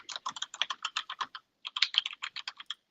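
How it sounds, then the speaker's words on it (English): Rapid clacking of computer keyboard keys, a burst of quick keystrokes, a brief pause, then another run of typing, close and clear. "are you typing for so long? I can hear every click."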